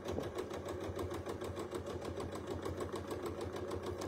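A sewing machine doing free-motion quilting, stitching a Baptist Fan pattern and going back over already-sewn lines, runs steadily and close with a rapid, even mechanical chatter and a low motor hum throughout.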